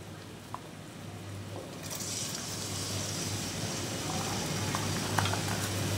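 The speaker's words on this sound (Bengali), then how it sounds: "চলো পেঁয়াজটাকে আমি একটু ভেজে নেই" A large chopped onion frying in hot oil in a heated wok, a steady close hiss and crackle that starts suddenly and continues evenly, with a faint clink or two of a utensil.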